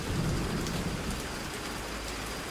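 Heavy cartoon rainstorm with a dense, steady downpour and a rumble of thunder, loud and continuous with no speech.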